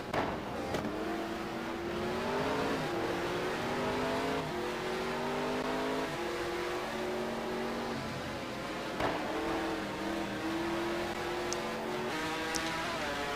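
A high-pitched Ferrari GT1 race car engine screams and revs at Circuit of the Americas, its pitch rising and falling through gear changes, sustained and loud from a moderate distance.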